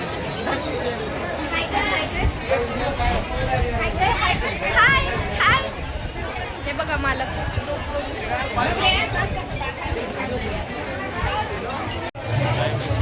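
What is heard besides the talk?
large crowd chattering at a village fair (jatra)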